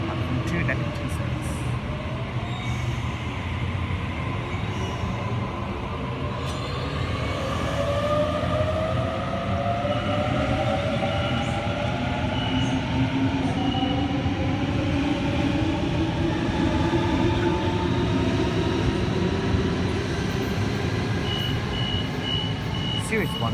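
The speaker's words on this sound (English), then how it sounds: "We have Waratah Series 2 Set B3 and Series 1 Waratah Set A64 arriving into Platform 2 Edmondson service." Sydney Waratah Series 1 and Series 2 electric trains pull into Platform 2 at Edmondson Park station. A steady, heavy rumble of wheels runs throughout, with rising and falling motor whines on top.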